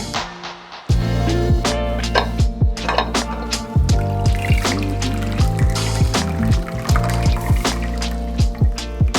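Cassava cake batter pours into a buttered baking pan, a continuous loud wet stream with dripping, gurgling splashes that carries on steadily for several seconds without talk.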